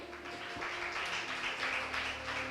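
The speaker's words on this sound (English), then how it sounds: "Sustain the clap until we have" An audience at a school quiz contest in Bushenyi claps to welcome a quiz team, a steady sustained wash of applause with no pauses throughout.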